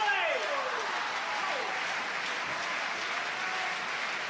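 Sustained applause from a large arena crowd of about 8,000 at a world table tennis championship match, a broad steady clatter of clapping throughout.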